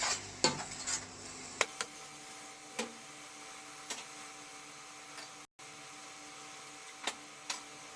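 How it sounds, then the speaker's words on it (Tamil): Onions and spices for a Tamil seer fish curry (vanjaram meen kulambu) soften in a pan, with a soft steady sizzle and a few scattered light clinks of a spoon stirring against the pan. "இது கொஞ்சம் வதங்கட்டும்."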